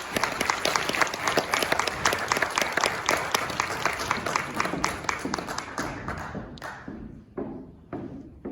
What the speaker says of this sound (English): Let's go ahead and give her a round of applause